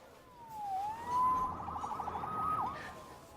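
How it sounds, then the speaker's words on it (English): A police siren in Marvel's Spider-Man wails, sweeping up and down, briefly switching to a rapid yelp pattern, fairly close and steady. "Saved by the siren."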